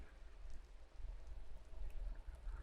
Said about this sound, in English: And plus it's raining, I believe